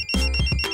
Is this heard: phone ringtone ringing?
yes